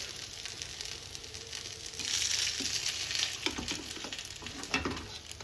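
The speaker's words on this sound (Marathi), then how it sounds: "तेल आता थोडंसं चांगलं जास्त तापलेलं आहे त्यामुळे ते लवकर भाजेल" Poha cutlets shallow frying in very hot oil give a steady close sizzle that swells midway, with faint scraping and patter from turning them in the pan.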